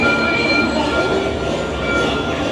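Mickey & Minnie's Runaway Railway ride vehicle rolls along with a steady, loud mechanical rumble and a faint whine, continuous with no talking.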